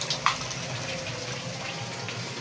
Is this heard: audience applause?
no